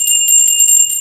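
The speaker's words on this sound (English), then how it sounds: "Whoever gets the right answer, I'm going to ring the bell." A small hand bell rung loud and close, giving a quick run of bright, ringing metallic strikes over about a second.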